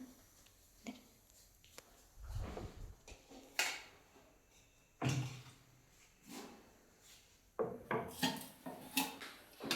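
Pots, pans and utensils clatter and knock during home cooking of dal and rice, with scattered clanks, scrapes and thuds coming in irregular bursts at close range and no talking.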